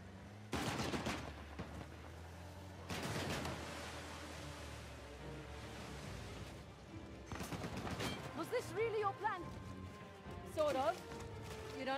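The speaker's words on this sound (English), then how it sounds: "They're shooting." Gunfire in the video game Uncharted: The Lost Legacy, with several heavy bursts of shots spaced across the scene over a constant ambient background, while a voice speaks.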